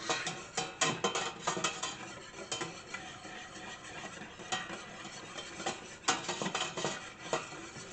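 A spoon stirs cabbage boiling with apple cider vinegar in a pot, producing repeated close scraping and clinking strokes against the metal over a steady bubbling hiss, with no talk.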